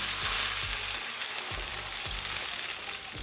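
Pumpkin fries in a pan over a medium flame with a bright, steady sizzle, while a few low, rhythmic scrapes and knocks of stirring sound beneath it, with no talking.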